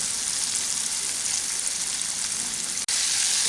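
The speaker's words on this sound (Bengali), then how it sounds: "আজটাকে একটু মিডিয়াম ফ্লেমে রেখে আমি এই চিকেনগুলোকে ভেজে নিচ্ছি" Chicken pieces frying in oil over a medium flame give off a dense, even hiss that continues without a break, close and steady, with one brief dropout near the end.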